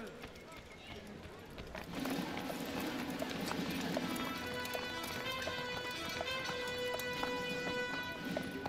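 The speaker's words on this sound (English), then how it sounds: "Oh, that's a big horse." Galloping horse hooves in the Assassin's Creed video game, a steady clip-clop rhythm over busy game music and ambience, with someone talking over it.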